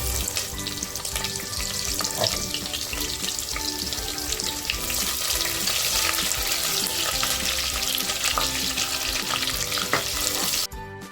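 Onion tossed into frying garam masala: loud, dense, crackling sizzle that holds steady throughout, with scraping stirs mixed in, close to the pan, ending in an abrupt cut, with no voices.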